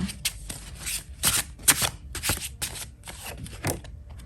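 Tarot cards being shuffled close up, a run of crisp riffling bursts and soft slaps repeating in quick succession with no talking.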